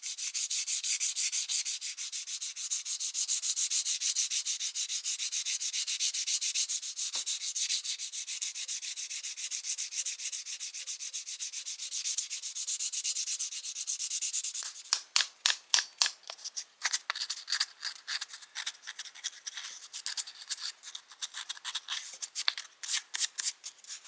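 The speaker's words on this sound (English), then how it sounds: "I'm going to sand the rest of the handle with 320." A wooden putty knife handle is hand-sanded with 320-grit paper, first a steady soft rubbing hiss, then quick back-and-forth scratchy strokes in a brisk rhythm, close and alone.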